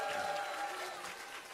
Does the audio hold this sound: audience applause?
yes